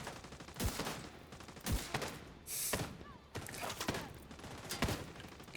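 Video game gunfire, with separate loud shots landing about once a second, each a sharp broadband crack with a booming tail over a low background.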